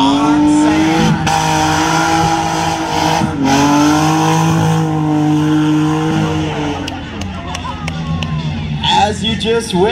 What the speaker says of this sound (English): You guys just witnessed the world record of the two-wheel drive on sand.